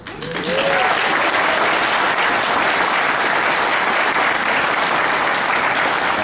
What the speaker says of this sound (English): Applause for the management of